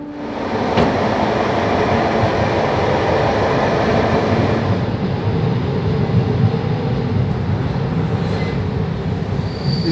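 Steady rumble and rattle from inside a moving freight train car in Transylvania, with rhythmic wheel noise and a faint squeal near the end; no talking.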